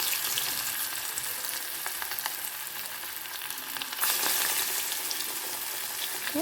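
Split green gram batter fries in hot oil, a steady close crackling sizzle with a brief louder burst as more batter is dropped in.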